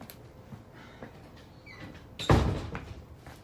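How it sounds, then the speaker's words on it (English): A door closed against mosquitoes during a home exercise session, landing as a single solid thud around the two-second mark after quiet, low room noise. "I'm just going to close that door for all the mozzies get in"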